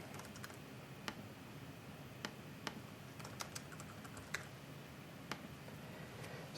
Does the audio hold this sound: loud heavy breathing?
no